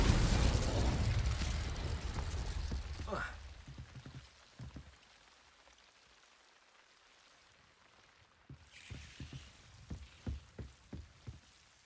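Blasting spell explosions from the Hogwarts Legacy video game: a loud sustained burst at the start fades out, then a series of sharp pops and bursts follows near the end, with quieter game ambience between.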